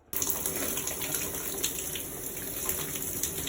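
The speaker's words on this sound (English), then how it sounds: "Now I'm gonna hop in the shower and get myself ready for the day" Home shower running, water spraying in a steady, moderately loud hiss that starts abruptly and continues evenly with no talking.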